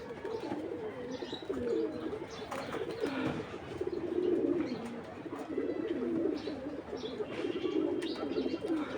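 A male racing pigeon, among birds kept at home, coos in repeated low, throaty phrases close by, with faint chirps and other bird sounds around it and no talk.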